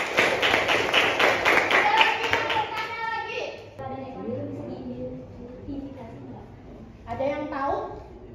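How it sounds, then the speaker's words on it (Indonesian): Classroom of students claps hands together in a quick burst of rhythmic clapping, fading into quieter scattered taps while voices talk, then a short second round of clapping. "Tepuk tangan."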